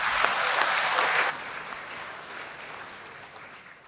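Audience applause at an indoor ministerial inauguration speech, a dense burst of clapping that drops suddenly after about a second and then fades out steadily.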